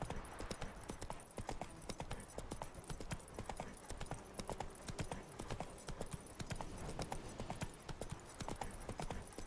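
Hooves of Roach, a horse in the video game The Witcher 3, clip-clop at a steady trot, a dense continuous rhythm of close, distinct hoofbeats with no talking.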